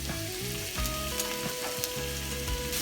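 Button mushrooms, the larger ones cut into quarters, fry untouched in a pan on the highest heat, giving a steady, close, continuous sizzle with faint crackles throughout.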